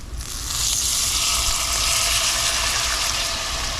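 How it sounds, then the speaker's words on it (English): Leftover coffee poured into sausage frying in a pan for red-eye gravy sets off a loud, steady sizzling hiss that swells quickly and holds for several seconds without talk. "I've got some coffee left over from this morning in here, and we're just gonna pour it into our sausage."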